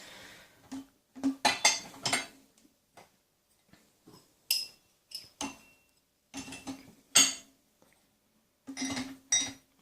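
Dishes, glasses and cutlery clink and clatter in irregular bursts as they are loaded into the top shelf of an AEG dishwasher, with short quiet gaps between handling sounds, close and fairly loud, no talk.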